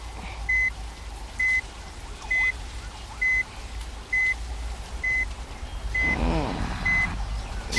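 Transport truck manoeuvring at night for a departure from Salem Mettur, with a steady series of evenly spaced reversing beeps over engine rumble, and a louder rustling burst near the end.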